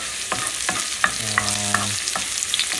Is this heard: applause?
no